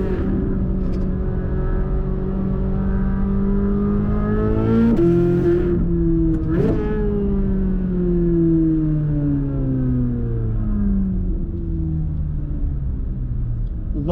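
A Chevrolet Corvette C8 Z06 supercar accelerating hard, its engine note climbing in pitch, then two sharp gear-change breaks at about five and six and a half seconds before the tone pulls down and away, loud and close.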